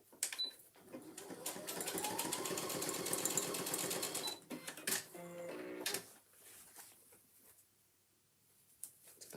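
A sewing machine stitching a handbag runs in a fast, steady mechanical rattle for about four seconds, then gives a few short start-stop bursts before falling quiet.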